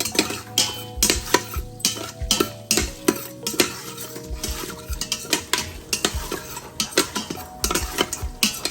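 Cashews are fried and stirred in an Instant Pot for veg biryani, with repeated scraping and clinking of a metal spoon against the pot over a faint sizzle in an irregular, busy rhythm.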